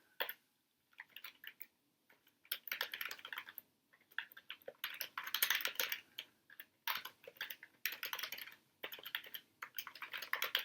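Rapid bursts of typing on a computer keyboard while entering commands in the vi editor, crisp close key clicks in uneven clusters separated by short pauses.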